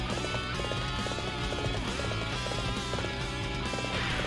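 In Dynasty Warriors 7, a horse gallops with rapid, rhythmic hoofbeats under a dense layer of game music and battle noise, steady throughout.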